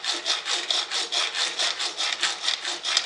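A hand saw cuts through the shaft of a J71 rotary switch in steady, rapid back-and-forth strokes, about five per second, close and clear, a raspy rhythmic scraping with no voices.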